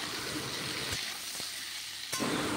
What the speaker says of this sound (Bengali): পেঁয়াজ কুচি এখন ভালো মতন করে ভেজে নিব।